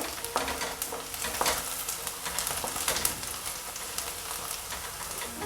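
Onion and green chili fry in a pan for Maharashtrian kanda poha, a dense, even sizzle with the scrape of stirring throughout, close and steady.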